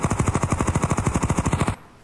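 Video game automatic gunfire: a loud, rapid burst of about twenty evenly spaced shots that stops abruptly, followed by near silence.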